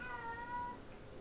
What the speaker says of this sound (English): I have to apologize for the new cat in the house that is now in here.